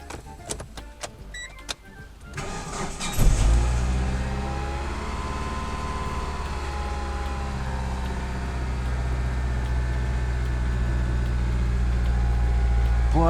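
A Chery Cross Eastar car's engine cranks and catches after a few clicks and rattles, then settles into a loud, steady idle that rises slightly in a long rev, close by with no talk.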